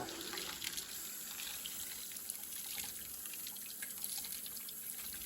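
Tap water runs in a steady trickle over scrubbed model train flat car parts carrying John Deere equipment as the soap is rinsed off, a continuous faint splashing with light drips.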